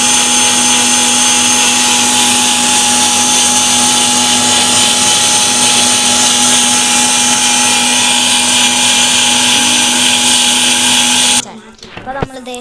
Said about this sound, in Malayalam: അവിടെ വീണ്ടും അരയ്ക്കാൻ തുടങ്ങിയിട്ടുണ്ട്.